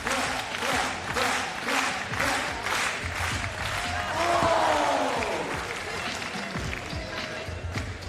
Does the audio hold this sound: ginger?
no